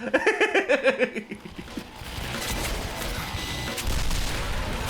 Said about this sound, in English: It's a good thing I kept that rocket launcher, huh?